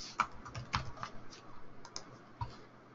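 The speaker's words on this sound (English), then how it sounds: "Type my name in here." Quiet bursts of typing on a computer keyboard while entering a name into a data import file, with irregular clusters of key clicks alone and close.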